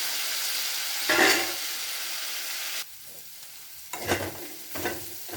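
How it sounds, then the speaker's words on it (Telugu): Broad beans fry in oil in a pan with curry leaves, a loud, steady sizzle broken by a sudden drop in level partway through, followed by bursts of stirring and crackle; no speech. "ఇలా వేయించుకోవాలండి. వేసుకున్న తర్వాత ఇగో వేగింది."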